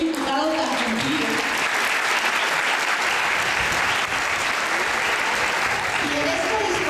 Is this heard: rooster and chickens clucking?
no